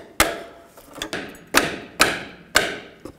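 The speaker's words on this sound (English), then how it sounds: "Just going to use a pry bar and a hammer. Just give it a tap on the top." Five sharp metallic hammer taps on a pry bar while replacing a rear brake hose on a 2000-06 GMC Yukon, spaced roughly half a second apart, close and clear with short ringing decays and a few softer knocks between.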